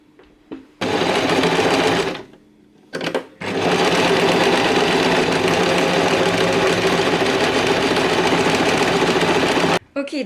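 A sewing machine stitches a trouser seam in loud, close, steady whirring runs, one short burst, a brief pause, then a long unbroken stretch before it stops.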